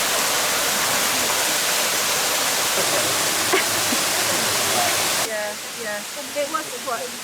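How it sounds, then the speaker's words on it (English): A loud, constant roar of the Mok waterfall near Nong Khiaw, Laos, fills most of the clip, then drops away abruptly, leaving quieter chirping bird-like sounds. "And that leads us to the Mok waterfall."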